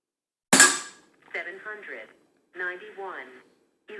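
A single sharp, close crack from a regulated Air Arms S200 .177 air rifle firing a pellet, followed by a voice talking in short bursts.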